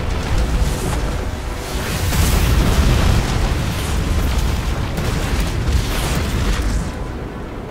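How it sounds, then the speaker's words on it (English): Artillery barrage explosions in the video game Destiny 2, deep booming blasts rolling one into another in a continuous heavy rumble with crackling debris, loud and close throughout. "Another barrage!"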